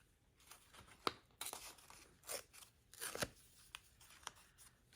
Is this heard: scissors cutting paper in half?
yes